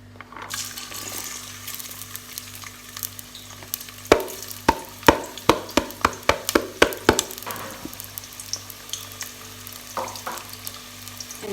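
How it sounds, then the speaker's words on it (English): Onions fry in oil with a low steady sizzle while a utensil clinks sharply against the pot in a quick run of taps, then stirs more quietly. "And then so I'm gonna put onions in."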